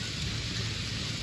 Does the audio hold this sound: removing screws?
no